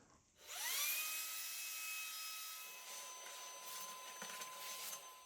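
A router spins up and cuts a truss rod slot in a wooden guitar neck, a loud high whine that rises quickly then holds steady, with faint rougher cutting noise near the end.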